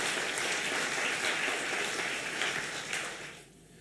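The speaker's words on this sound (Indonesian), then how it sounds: "Beri tepuk tangan dulu untuk Tuhan kita." Congregation applauding during a Sunday church worship service, a steady wash of many hands clapping at full strength before tapering off at the end.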